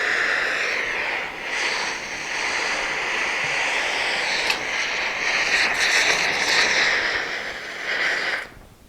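Roaring torch flame heating bronze in a crucible for casting, a steady loud hiss that holds for several seconds and then cuts off abruptly.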